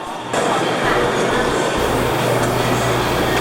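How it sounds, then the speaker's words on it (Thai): A Shenzhen metro train rolls into the station with a loud, broadband rushing roar that steps up suddenly and holds steady, joined by a low hum partway through. "รถไฟมาแล้วนะครับ"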